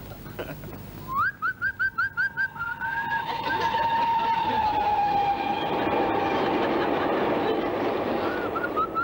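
A train rumbles past close by on a country railway line, wheels clattering steadily on the rails, with a run of short whistle blasts followed by a long drawn-out whistle.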